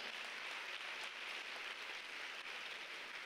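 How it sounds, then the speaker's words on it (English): Attendees at a Black male initiative conference clap, a soft, distant, uniform hiss of many hands that sounds faint and somewhat rain-like, with no voices. "Go ahead, clap it out."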